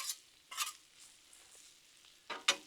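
Cabbage sizzles softly on a Blackstone griddle, with a few brief scrapes of a spatula spreading it out, quiet and close, without any talking.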